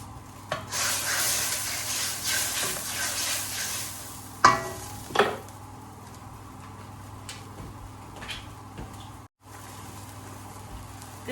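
Garlic sauce goes into a pan of sizzling beef for Filipino bistek, setting off a loud, steady frying hiss with a couple of sharp spattering bursts that fades into a quieter sizzle, close up and without voices.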